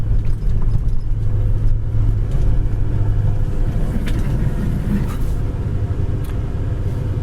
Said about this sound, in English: Little 350 idle's nice. Idle's down really good. Engine runs good.